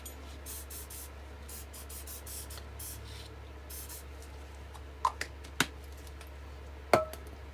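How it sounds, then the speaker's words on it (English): A run of short, hissing GT85 aerosol lubricant spray bursts, close by, followed by a few sharp clicks and taps near the end. "I like to use a little bit of GT85, give it a little spray."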